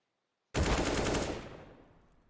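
Automatic gunfire in a Counter-Strike match during an ESL Pro League playoff game between Order and Avant: a loud burst of rapid shots that starts abruptly from silence and rings out over about two seconds, with no speech.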